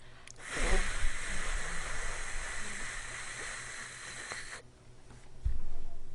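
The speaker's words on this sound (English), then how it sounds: "It's my white noise." Steady broadband hiss used as sleep white noise, loud and even for about four seconds before cutting off, followed by a quiet stretch and a low thump near the end.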